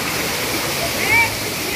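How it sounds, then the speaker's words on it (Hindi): Water flowing in a stream at Kachargarh cave in Darrekasa, Maharashtra, a steady close rushing wash with a voice faintly present over it. "ये देखो पानी इस तरफ जा रहा है"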